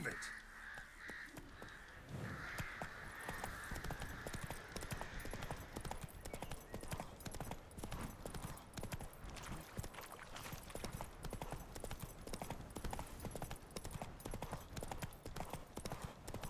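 A horse galloping in The Witcher 3 video game: rapid rhythmic hoofbeats continuing steadily after a brief opening of game speech and ambience, with crow caws mixed in.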